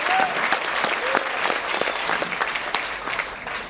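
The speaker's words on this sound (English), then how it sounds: "Give Skippy a big round of applause." A comedy show audience aboard the KISS Kruise applauds a performer, dense sustained clapping from a crowd, loud and steady for several seconds with no talk over it.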